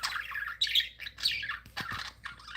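A pet bird gives loud, harsh squawks and chirps in repeated bursts, close by, with brief pauses between calls and no talking.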